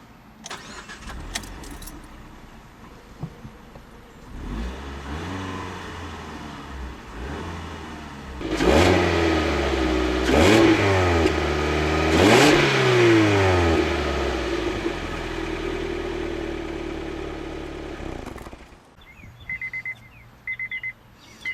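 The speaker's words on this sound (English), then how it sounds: "Now I wanted to show you guys a quick startup and rev for my car so you can compare the sound versus the Fiesta" A 2012 Honda Fit Sport cranks and starts, settles into idle, then takes three sharp revs that rise and fall before holding a steady idle and shutting off; close and loud with no talking.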